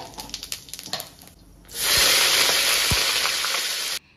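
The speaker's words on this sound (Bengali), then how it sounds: "জিরে আর কাঁচা লঙ্কা ফোড়নে দিলাম" Cumin seeds and green chillies hit hot oil for tempering and burst into a loud, steady sizzle that starts abruptly partway in and holds strongly until it cuts off near the end, after some quieter kitchen clatter.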